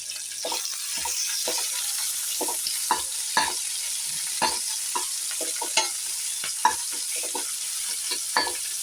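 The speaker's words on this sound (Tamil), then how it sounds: "5-6 மிளகு, பட்டை, கிராம்பு எல்லாத்தையும் சேர்த்து இதில் போட்டு நம்ம ஒரு வதக்கி எடுத்துடலாம்." Whole spices being sautéed in a hot pan: pepper, cinnamon, cloves, fennel and cumin. A steady bright sizzle runs under repeated scraping stirs of a spoon, loud and close.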